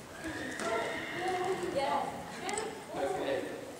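A pony trots during a polocrosse outing, its hooves making soft, uneven clip-clops on the ground while people talk nearby.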